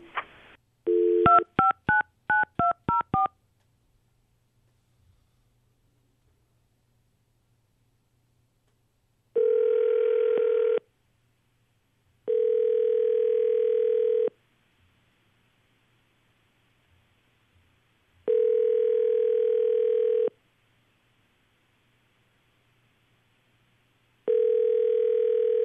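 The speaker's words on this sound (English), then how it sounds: "when you hear her answer the phone, we'll dial for you" A telephone gets dialed: a quick run of DTMF keypad tones up front, then after a silent gap four long, evenly spaced ringback tones sound at moderate loudness, with no voices.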